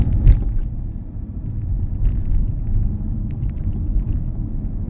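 A car on a UK driving test route in Huddersfield moves off and drives steadily, its engine and road rumble forming a continuous low drone close by, with no talking.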